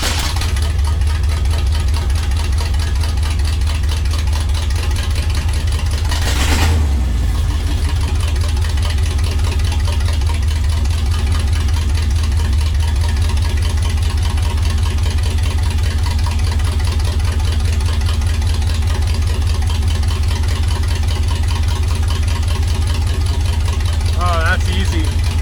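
Truck engine on open headers idling loud and close, a steady rumbling drone throughout with a brief sharp burst early on and a voice talking over it.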